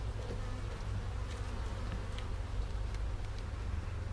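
Honey bees in an opened backyard hive filling the air with a dense, continuous buzz, close and steady throughout, with no talking.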